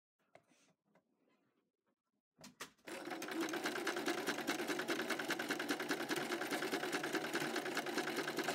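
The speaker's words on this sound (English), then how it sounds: "So I've selected a blind stitch for firm fabrics." A sewing machine blind-stitches a petticoat hem in firm fabric. A few faint handling clicks come first, then the machine starts and runs with a loud, even, rapid whirring rhythm up close until the end.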